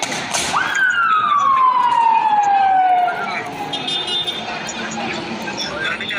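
A loud siren wails with a long descending sweep, then fades into traffic noise with fainter ambulance and police siren tones continuing in the background, at a car fire in a residential complex in Adana.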